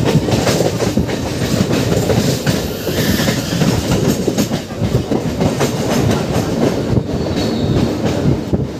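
Baruipur to Sealdah local train passing close by near Ballygunge Junction, a loud continuous roar with rhythmic clickety-clack of wheels over rail joints and faint squeal throughout.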